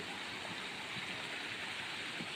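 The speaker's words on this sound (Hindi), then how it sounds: "यहाँ पर सब पानी झरने की तरह झर रहा है" Water spilling and cascading like a small waterfall at Hirekolale lake near Chikkamagaluru, a steady close splashing rush that fills the short moment with no voices.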